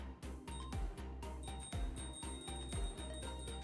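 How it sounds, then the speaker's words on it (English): A bicycle bell rings in the video game Limbus Company, several bright metallic dings repeating at roughly one-second intervals over a steady low background hum. "Kind of bell you'd have on your bike."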